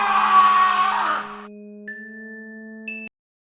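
A skull's terrifying scream in a paranormal folklore tale, a harsh, wavering shriek lasting over a second that drops into a sustained eerie tonal drone, then cuts off abruptly to silence.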